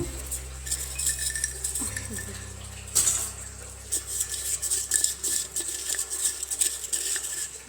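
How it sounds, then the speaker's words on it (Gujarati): A kadai pan is set down on a gas stove burner, giving one sharp metallic clunk amid light kitchen clatter in a quiet room. "તો આપણે આ ગેસ ઓન કરીશું અને આ એક લોયું મૂકી દઈશું ઉપર"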